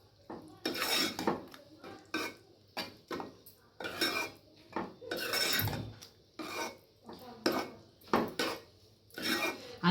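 Ridge gourd and moong dal are stirred in a pot before the lid goes on, a spoon scraping and clinking against the metal in repeated rhythmic strokes, close and fairly loud.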